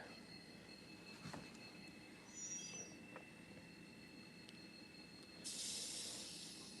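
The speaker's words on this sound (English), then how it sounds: "Let's try some newer micro trains." Micro Trains model rolling stock with truck-mounted couplers runs along a layout track. A faint, steady rolling hiss carries brief high wheel squeals, and a louder burst of hiss comes near the end.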